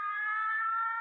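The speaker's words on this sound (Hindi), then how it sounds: "वो पुलिस का सायरन, ये जेल की वर्दी।" A police siren holds one sustained electronic tone, loud and steady with no rise or fall, continuous and alone for about a second.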